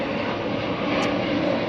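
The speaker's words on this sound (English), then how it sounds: "unfortunately I live under a flight path" An airplane passes overhead along a flight path above a house, a loud, continuous engine roar that fills the moment evenly, with no voices heard.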